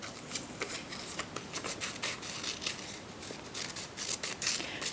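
Paper shapes being cut out with scissors, quick repeated snips and rustling of the sheet running steadily and close, with no talking.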